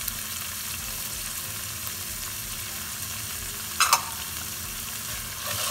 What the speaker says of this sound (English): Saute this a bit.